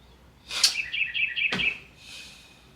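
A bird outdoors gives a bright burst of quick chirps and a short trill, close and clear over quiet background.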